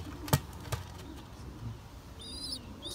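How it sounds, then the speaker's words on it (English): A small nestling bird flaps its wings close by in two quick bursts, followed by faint rustling and a few soft high chirps against a low background hum. "It's a nice little bird."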